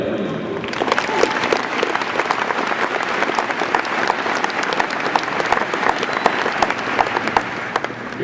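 A large audience at a high school graduation ceremony gives a sustained round of applause, dense and even clapping with a little crowd noise mixed in.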